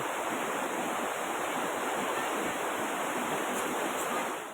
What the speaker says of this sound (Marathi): हे बघा धबधबा याची हाईट खूप मोठी आहे